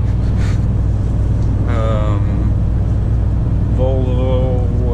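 A Volvo FM 410 truck pulling a trailer through Stockholm, its engine a steady low rumble throughout the cab, with someone talking over it.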